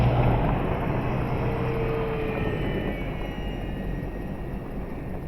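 XFly Twin Otter 1800mm RC model plane in flight, a steady buzzing twin-engine drone that fades gradually as it flies away, with no voices.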